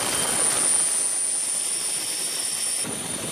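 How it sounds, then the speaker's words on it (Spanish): Military rescue helicopter flying over flood devastation in Sri Lanka, a steady loud rotor and engine roar that holds for several seconds, then fades a little near the end. "los equipos de rescate trabajan sin descanso usando helicópteros militares"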